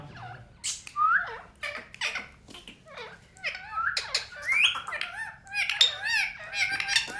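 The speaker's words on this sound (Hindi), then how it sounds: "अब ये तोता है" A pet parrot squawking and whistling in a rapid, busy string of shrill chirps, squeaks and rising calls, close and fairly loud, with no voices.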